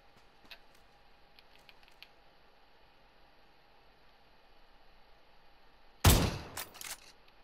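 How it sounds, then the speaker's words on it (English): Gunshots striking a frying pan in PUBG: after a quiet stretch with faint ticks, a sudden loud metallic burst of impacts near the end, followed by a few quick clanging hits. "Shoot my frying pan."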